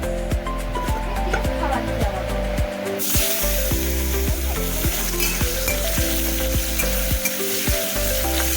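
Pieces of food coated with salt and turmeric frying in hot oil, a loud steady sizzle with sharp crackles and occasional knocks from a utensil throughout.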